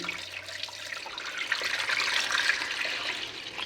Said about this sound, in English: And so now I'll just place the water, cold water in.